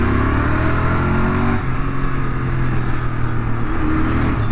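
A Royal Enfield Continental GT 650 with an aftermarket exhaust rumbles loudly while being ridden. The throaty engine note holds steady, then dips and picks up again as the throttle changes.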